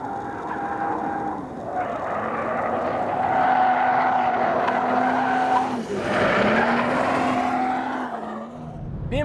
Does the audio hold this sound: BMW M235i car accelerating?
yes